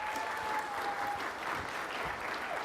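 Audience applause at a tech conference fireside chat in San Francisco, a steady, dense clapping from a crowd that holds evenly throughout at moderate distance, with a faint tonal hum running underneath.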